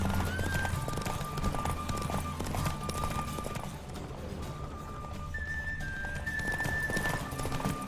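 Hooves clip-clop at a steady gallop from a horse racing in the Witcher 3 video game, running on continuously under game music tones.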